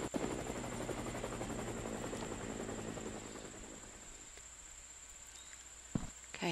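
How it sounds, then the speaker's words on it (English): A video game helicopter's rotor chops steadily overhead with a high whine, loud at first then fading into the distance, a few light footsteps near the end. "there's the helicopter again."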